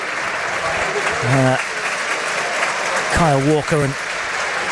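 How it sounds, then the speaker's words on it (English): Broad, sustained applause from a Premier League football crowd greeting former Nottingham Forest captain Joe Worrall in the Forest v Burnley match, running steadily beneath a commentator's voice. "Good applause here for the former Forest skipper, Joe Worrell"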